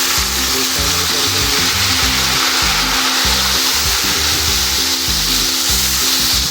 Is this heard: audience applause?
no